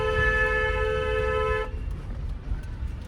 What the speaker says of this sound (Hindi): ऑटो वाले को मैंने अभी से हॉर्न देना स्टार्ट कर दिया